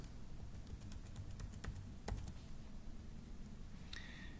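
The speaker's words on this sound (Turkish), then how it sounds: "klavyemizden kontrol tuşuna basılı tutarak yön tuşlarını kullanabiliriz" Soft typing on a computer keyboard with the control key held and the arrow keys pressed, scattered key clicks over steady room hiss, faint and close, with no speech.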